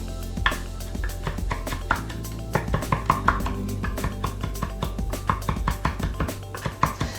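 Fresh garden basil chopped by hand with a knife on a cutting board in a home kitchen, a rapid, steady run of crisp knife taps that speeds up near the end, close up, with no talk.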